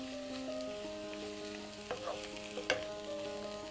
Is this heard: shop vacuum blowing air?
no